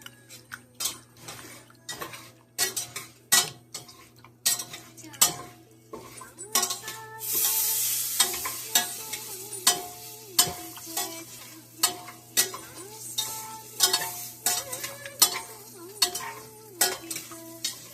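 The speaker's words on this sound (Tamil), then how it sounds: "உளுத்தம் பருப்பு எப்படி வறுக்கணும் செவக்க வறுக்கணும்" Urad dal roasting in a pan with a spoon scraping and clinking against the metal at a steady rhythm, each stroke sharp and close, over a quiet sizzle, with a brief louder hiss partway through.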